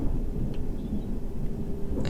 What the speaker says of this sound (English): And here's the rain.